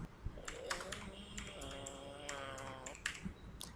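Typing on a computer keyboard, a quick run of close, light key taps clustered in short bursts, heard under a background of faint voice and tonal noise.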